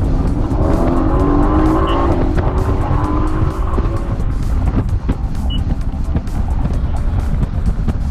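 A Mercedes-AMG GT C convertible's engine rumbles loudly and steadily close by, with a brief rising rev early on, then settles into a constant driving drone.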